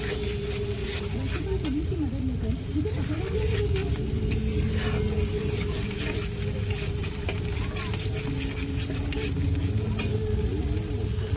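Paneer and cauliflower fry in a pan with ground poppy seed paste, making a steady sizzle under repeated scraping and stirring, while a voice talks over it throughout.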